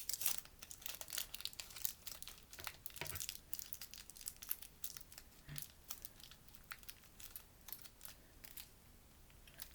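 A paper shirt being folded and wrapped around an action figure, giving soft, close crinkling and rustling with scattered sharper crackles, no voices.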